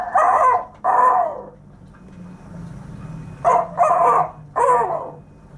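A voice imitates a rooster crowing in five short, loud, strained syllables, two and then three, with a pause between the groups.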